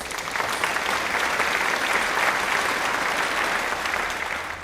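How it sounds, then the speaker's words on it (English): Seminar attendees at an academic speaking event applaud after a question is answered, a loud, close, continuous burst of many hands clapping for several seconds, with no speech over it. "So, applause."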